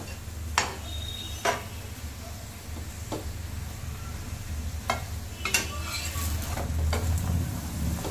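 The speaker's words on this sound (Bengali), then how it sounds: "তেল দিয়ে ধীরে ধীরে কিন্তু চেপে চেপে সেঁকে নিতে হবে।" A laccha paratha fries in oil on a pan while being pressed down, giving a steady soft sizzle broken by a few sharp clicks and taps of the spatula against the pan.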